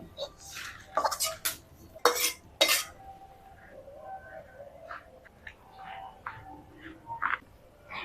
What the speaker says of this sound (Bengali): এবার আমি কুলোতে ঢেলে নিব